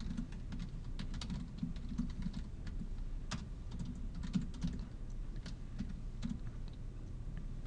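Soft, continuous typing on a computer keyboard while writing Fortran code, with irregular clusters of quiet key taps and occasional sharper clicks, close and low in level with no talking.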